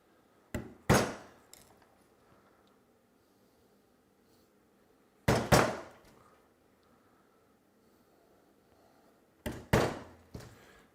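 Three pairs of sharp wooden thunks, spaced about four seconds apart, as shallow cuts are made into a wooden mailbox post, each strike ringing briefly before fading into a quiet room.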